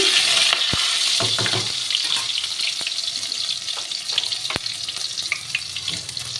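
Tomato quartered into four pieces frying in a pan with steady sizzling hiss throughout, punctuated by scattered sharp pops and utensil taps, fairly loud and close with no talking.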